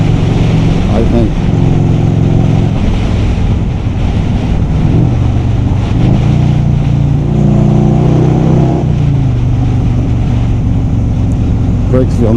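A 1984 Harley-Davidson motorcycle engine running on the road, a loud low rumble that revs and shifts up and down under heavy wind noise, while someone talks over it.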